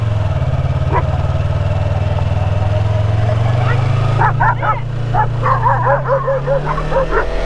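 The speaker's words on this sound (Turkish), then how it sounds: "Bak köpek kardeş." A dog barks and yips in a rapid, excited series over a loud, droning motorcycle engine hum on a winding village road, the barking close and repeated.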